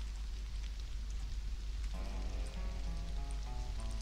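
Steady rain falls in the survival video game Stranded: Alien Dawn, a constant even hiss of drops with soft musical tones entering midway, no speech over it.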